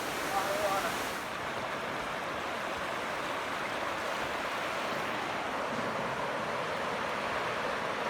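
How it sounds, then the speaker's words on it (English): Floodwater rushes in a broad, continuous roar that stays steady and fairly close, with brief voices at the start. "Because it's flooding right now"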